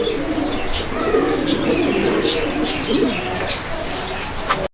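Pigeons coo softly and repeatedly nearby, low throaty calls with a few faint chirps in the background.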